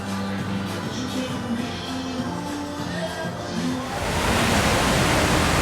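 Water mist spraying at a Nassau resort, a steady hiss that swells louder near the end as the walker passes into the spray, with faint tonal background sounds earlier.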